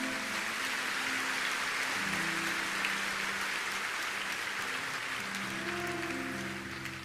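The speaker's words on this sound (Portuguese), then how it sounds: "E você pode aplaudir mais uma vez o Senhor." A church congregation applauds during a sermon, a soft, continuous hiss of many hands that sounds distant and rain-like, with a low sustained musical tone underneath.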